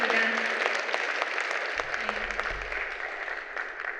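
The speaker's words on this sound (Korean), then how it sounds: "큰 박수 부탁드립니다" Audience applause at the opening ceremony of a 2022 Korean smart water grid academic conference, a broad steady clapping from a seated crowd that fades slightly over four seconds, with a brief low voice underneath.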